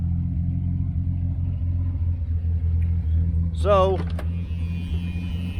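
A restored 1978 Chevy Nova drives along, its low steady engine and road rumble droning throughout, with brief speech partway through.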